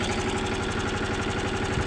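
A tractor engine runs steadily at idle at a solar plant, a close, loud and continuous rumble with an even pulsing throb throughout, no voices over it.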